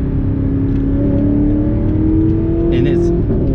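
An Audi R8 sports car engine hums and whirs steadily while driving, heard from inside the cabin with a sustained mid-pitched drone that rises slightly and carries on without breaks.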